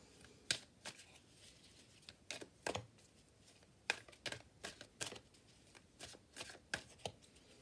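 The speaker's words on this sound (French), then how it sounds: "Alors, je reprends mes cartes." Tarot cards being shuffled by hand during a fortune-telling reading, a quiet run of sharp riffling snaps and soft card slaps in irregular bursts, close and fairly faint with no talking.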